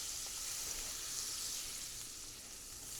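Bacon grease melts in a frying pan for fried bologna, giving a steady, close, crackling sizzle that fills the whole stretch without talk.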